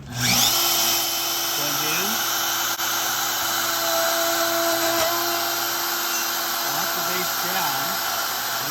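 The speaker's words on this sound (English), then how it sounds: "I'm going to turn the router on." A plunge router cutting a keyhole slot runs as a loud, steady high-pitched whine close by, holding a constant drone throughout with slight pitch shifts as the bit moves through the wood.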